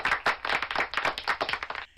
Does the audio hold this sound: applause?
yes